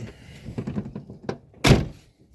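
A van's side door being opened during bodywork repair, with a few light knocks and rattles followed by one loud, sharp thunk near the end, close by.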